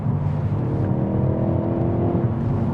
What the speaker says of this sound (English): Just needs a bit more exhaust sound